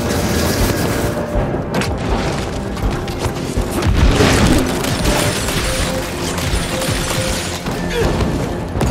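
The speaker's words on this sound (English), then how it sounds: "Shoot that gun now." Gunfire and heavy booms from the Evil West video game, dense and continuous battle noise with repeated shots and blasts, loud throughout.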